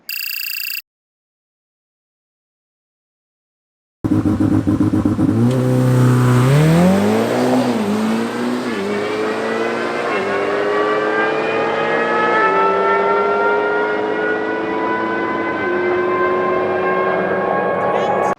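After a short silence, a stock Ferrari F8 Tributo engine roars to life and revs hard on launch control, climbing steadily through gears as it accelerates, loud and sustained.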